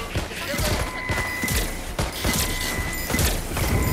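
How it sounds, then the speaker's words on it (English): Rapid bursts of gunfire crackle through a busy, dense soundscape in the video game Watch Dogs: Legion, several volleys in quick succession with constant background noise. "I hear gunshots."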